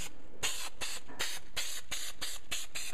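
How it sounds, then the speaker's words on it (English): Rapid bursts of a hand sprayer misting liquid heavily into the indents of a car trunk lid during a Vision trunk lid install, about nine sharp hissing squirts in quick rhythm, close and loud with no talk. "don't be afraid to spray heavy here so you can move this piece around."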